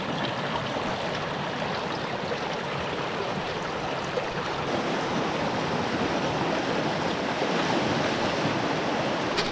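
A mountain river in the hills rushes steadily and loudly, a dense, unbroken wash of flowing water with no voices.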